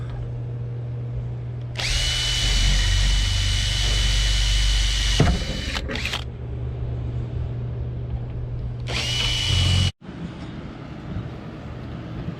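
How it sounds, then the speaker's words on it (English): A loud power drill whirs in two bursts, one long and one short, drilling pilot holes outdoors on a truck camper for a solar install, over a constant low outdoor hum. "drill our pilot holes"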